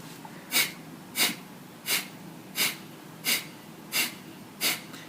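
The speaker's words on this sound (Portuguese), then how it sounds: "Normalmente no yoga chamam isso de respiração do fogo." Kapalabhati breath of fire in a yoga practice: seven sharp forceful exhalations through the nose at an even rhythm of about one and a half per second, close and fairly quiet, with no talk.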